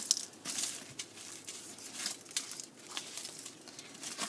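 Soft crinkling of aluminum foil being folded and pressed around corn on the cob, in irregular quiet rustling bursts close by, with no talking.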